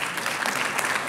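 Brief burst of audience applause at a formal ceremony, a dense, even patter of many hands heard for about a second with no speech over it.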